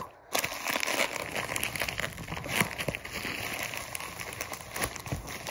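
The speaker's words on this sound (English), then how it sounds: "let's get into the unbagging, because it is a bag. So let's open this thing up." A plastic bag holding striped coveralls is torn open and handled up close, giving a steady run of loud crinkling and crackling rustles with sharp snaps scattered throughout and no talking.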